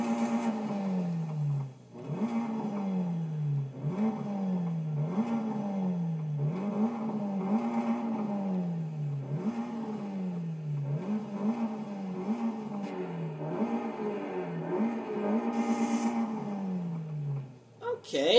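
A car engine in the racing game Forza Horizon 5 revs over and over, each rise in pitch dropping back in a regular sawtooth rhythm, loud and close for the whole stretch.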